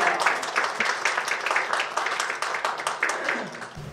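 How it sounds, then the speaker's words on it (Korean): Audience applauding at a launch event for Korean kimchi entering the US market: dense, steady clapping from a crowd that lasts the whole stretch at even loudness. "우리 세계적인 김치 명인 우리 강지영 대표 소개할 때 정말 박수로 크게 부탁드리겠습니다."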